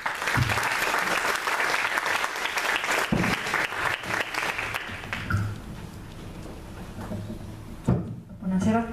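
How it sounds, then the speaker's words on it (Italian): A seated audience at an Italian professional gathering applauds in a dense, loud burst of clapping that runs for about five seconds, then thins and fades into quieter room sound with a few scattered knocks. "gli farei un grande applauso"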